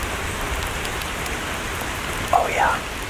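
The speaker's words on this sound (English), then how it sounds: "It's pretty rainy, as you can hear" Steady, dense rainfall patters outside on a porch, a continuous hiss of drops on surfaces filling the background, with a brief louder disturbance near the end.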